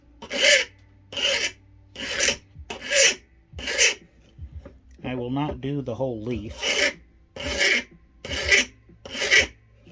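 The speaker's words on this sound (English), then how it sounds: "This is a standard mill file. Anything coarser really grabs." Standard mill file rasping across the metal edge of a forged rose leaf: eight or nine steady, evenly spaced strokes up close, broken midway by a short spoken remark.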